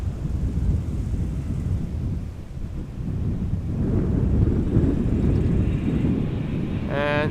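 An airliner climbing away from a runway at Amsterdam Schiphol, a broad low roar that swells and holds, heard outdoors with wind buffeting the microphone.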